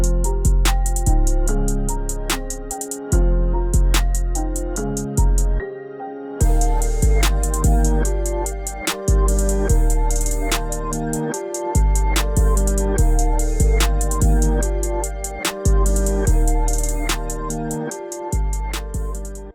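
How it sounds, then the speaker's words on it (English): Dark trap beat switch built on a reversed, pitched melody over heavy 808 bass, with punchy repeating drum hits and brief dropouts, loud and alone with no voices. "in just 1 or 2 minutes you have made a beat switch that sounds like this"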